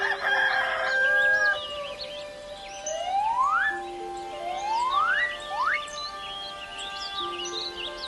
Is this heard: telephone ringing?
no